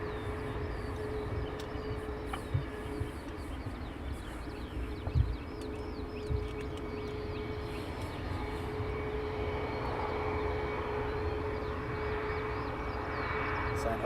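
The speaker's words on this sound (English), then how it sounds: "Sounds like more Seymour Johnson F-15s coming across." Seymour Johnson F-15 fighter jets pass over at a distance near London Luton Airport, a steady broad rumble that holds for the whole stretch without a clear peak.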